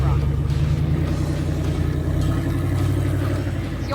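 A rock crawler's engine runs at a steady low rumble while the vehicle picks its way over canyon rocks in Billings Canyon, Colorado, its revs swelling slightly as more gas is applied, with people talking over it throughout.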